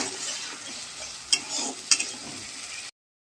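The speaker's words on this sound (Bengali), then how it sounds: "এবার এর মধ্যে আমি পোস্ত বাটা আর বাদাম বাটা দিয়ে দিলাম" Poppy seed paste and ground cashew paste fry with onion paste in oil in a pan, giving a soft, quiet sizzle broken by two sharp scraping clinks of stirring before it cuts off abruptly.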